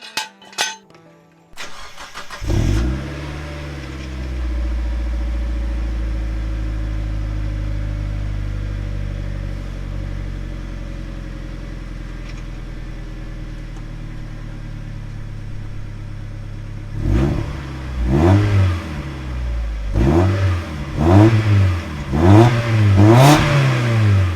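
A Mazda NB2 Miata engine with a new Cobalt mid pipe exhaust cranks and catches, idles with a deep steady rumble, then revs hard several times in loud repeated bursts.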